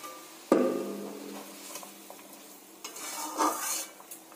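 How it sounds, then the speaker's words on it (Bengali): Fried pomfret-like fish pieces drop into a simmering curry with a sudden splash and clatter, followed by soft stirring and faint sizzling bubbles, a few light pan knocks near the end. "ঝোলটা ফুটছে, এবার ভেজে রাখা মাছগুলো দিয়ে দেব।"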